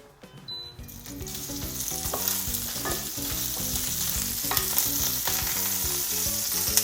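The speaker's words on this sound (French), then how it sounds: "On met de l'huile à chauffer, on attend qu'il soit bien chaud et on ajoute nos saucisses." Sausages sizzle in well-heated oil in a pan for Réunion-style rougail saucisse, a steady, loud crackling hiss that fills the whole clip over background music, with no talking.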